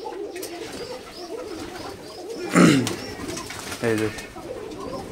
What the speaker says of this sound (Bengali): এগুলো সব হচ্ছে আমার খোকা কবুতর, এই যে দেখতে পাচ্ছেন